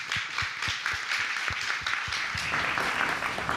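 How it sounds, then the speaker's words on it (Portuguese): An audience at a Brazilian technology panel discussion breaks into applause, a few distinct rhythmic claps near the front at first, then a broad steady wash of clapping. "Palmas."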